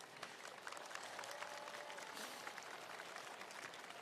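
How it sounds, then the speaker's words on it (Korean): Audience applause at a centennial ceremony commemorating the founding of the Korean Provisional Government, a dense, steady clapping from a large crowd that holds evenly throughout with no voices. "박수 다시 한번 부탁드립니다."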